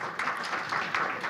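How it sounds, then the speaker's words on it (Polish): A conference audience gives a short burst of applause at an awards ceremony for young historians, a brief and fairly soft patter of clapping. "Zasłużone brawa."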